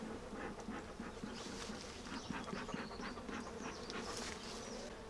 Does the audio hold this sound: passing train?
no